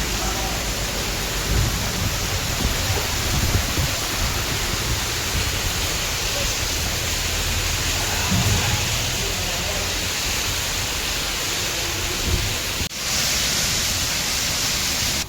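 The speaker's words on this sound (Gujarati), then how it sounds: "આપણે રાજકોટમાં ધોધમાર વરસાદ આવી ગયો છે" Heavy downpour in Rajkot, a dense steady roar of rain with strong wind gusts, loud and continuous throughout with low rumbling buffeting and a brief sharp knock near the end.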